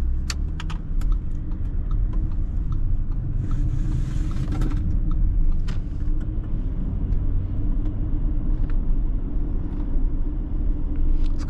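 A 2021 Audi Q8 S line cruises along a road, its cabin filled with a steady low engine and tire rumble, with faint light clicks and rattles scattered throughout and no one speaking.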